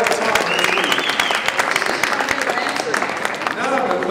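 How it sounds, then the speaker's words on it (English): A studio audience at a Gordon Ramsay show breaks into loud, sustained applause with dense clapping throughout, close and full, while talking carries on beneath it. "Give her a round of applause because she's incredible."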